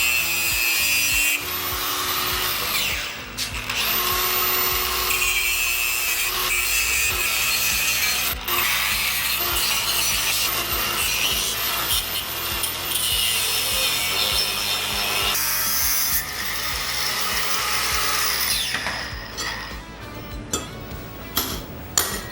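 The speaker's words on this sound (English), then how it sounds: "cut and grind that out and we'll see if it fits." Steel bar being cut and ground for custom barwork on a wagon produces a loud, continuous abrasive roar that holds steady for most of the stretch before tapering into a few scattered clanks near the end.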